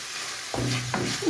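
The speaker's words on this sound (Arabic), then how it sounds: "هنا غادي نخلطهم مزيان يزيدوا يتشحروا ليا ياكلوا ليا التوابل تاع القطعه ديال الدجاج مع البصيله" Chicken pieces with onion and spices stirred in a frying pan for mini chicken shawarma filling, a quiet hiss that turns into closer scraping and sizzling partway through, with a sharp clack near the end.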